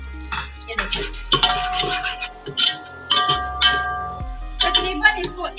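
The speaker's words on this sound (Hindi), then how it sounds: "अब हम इसके अंदर प्याज डालेंगे।" Onions going into hot ghee for dhaba-style daal mash, with stirring and scraping of a spoon against a metal pan, clinking utensils and a light sizzle underneath, in short bursts with pauses.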